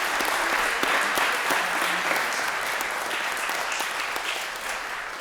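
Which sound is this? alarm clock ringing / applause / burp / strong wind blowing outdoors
applause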